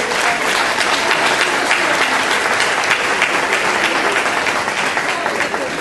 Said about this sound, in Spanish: Pueden aplaudirse.